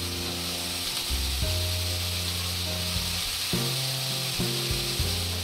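Chicken schezwan fried rice stir-fries in a hot pan, giving a loud, steady sizzle with periodic scraping and tossing as it is stirred continuously.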